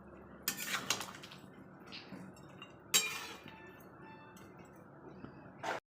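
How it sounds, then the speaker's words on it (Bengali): A utensil stirs coriander chicken in a cooking pan, making a few sharp metallic clinks and scrapes against the pan with quiet gaps between them, close and fairly faint. "এবার আমি এটাকে একটু নাড়া দিয়ে নেব।"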